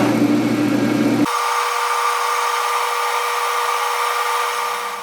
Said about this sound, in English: now we're going to load up a center drill in a collet, then the drill in a collet